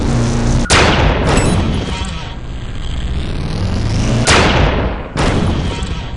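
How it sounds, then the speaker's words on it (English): Charged alternative-fire blasts from the dispersion pistol in Unreal 2 boom loudly several times with sharp onsets, and a rising whine of charging fills the gaps between the discharges. "Give the alternative fire a try. It builds up a charge and then releases a bigger blast."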